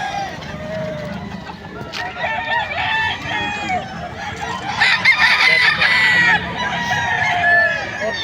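Many roosters and chickens at a market in Bocaue, Bulacan crow and cluck all at once, loud and near. Calls overlap continuously, with a denser burst of crowing partway through.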